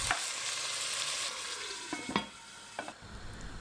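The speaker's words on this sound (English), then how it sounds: "First, I'm going to cook my meat until soft." Meat for a green peas stew cooks in a pot, with a steady close sizzle and a few sharp scraping stirs of a utensil against the pot.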